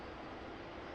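Aircraft engines run steadily just after start-up with the starters disengaged, a faint, even, broadband roar with no change in pitch over the short moment.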